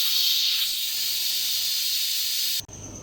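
Loud, steady steam hiss escaping from a pressure cooker as its whistle is lifted off while cooking turnip and meat, holding strong for a few seconds before cutting off abruptly.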